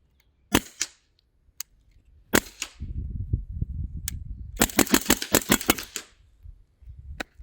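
Several sharp, snappy airsoft pistol shots crack out one after another, with a rapid burst of clicks near the middle over a low rumbling scrape.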